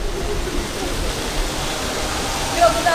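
River water flows past stone stairs below Niš Fortress, a constant broad rushing wash that fills the whole stretch without a break.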